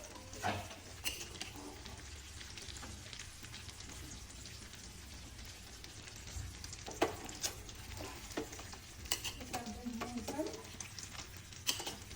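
Chicken pieces sizzle and fry in oil in a kadai for homemade achar, a continuous close crackle with occasional stirring scrapes and clinks of utensils against the pan.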